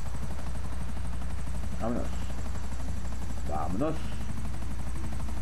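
Helicopter in the video game GTA 5, a steady loud rotor and engine drone filling the whole clip, with someone speaking Spanish briefly over it.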